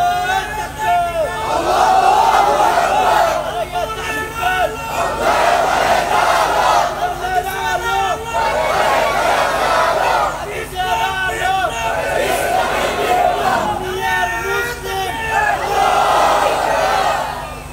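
A large crowd at a religious gathering roars the takbir in repeated loud, rhythmic call-and-response waves, each shout swelling and fading in turn.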